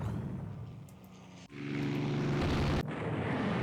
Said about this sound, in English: the Italians have night-capable land aircraft